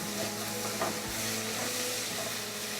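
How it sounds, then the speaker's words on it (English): Garlic frying in a pan while being stirred for a Pollo Aguascalientes chicken dish: a steady, fairly quiet sizzle with faint scraping from the stirring. "We're going to give that a stir now."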